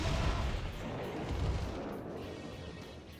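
A building holding hostages is blown up in the Metal Wolf Chaos XD video game, a heavy, loud, continuous blast rumble that holds steady across three seconds and tapers slightly at the end, with no voices.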